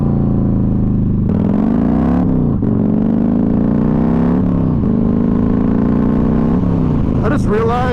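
A Yamaha Raider 1900cc muscle bike is ridden on the road on knobby-style tyres. Its loud, close engine drones steadily with rolling pitch rises as the throttle opens, over constant wind rush.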